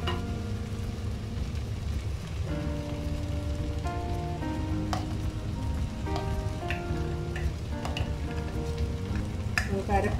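Ground coconut paste stirred into a pot of cooked avial vegetables makes a steady wet sizzle and soft scraping, with a low tonal hum running under it.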